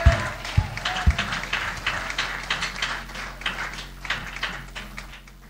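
A church congregation applauding together, a close, steady patter of many hands clapping with a few sharp individual claps at the start.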